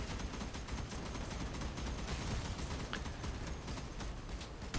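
Rapid, dense gunfire from the Flamey PomPom weapon in the vehicle combat game Crossout, a continuous loud barrage of overlapping shots sustained for several seconds with no talk.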